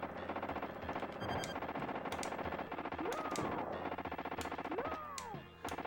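Rapid machine-gun fire and explosions from the SNES game T2: The Arcade Game, a dense continuous rattle of shots with sweeping tonal effects and loud blasts, no talking.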